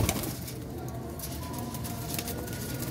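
Baby pigeons give low, soft coos close by, repeating over a steady bed of background noise.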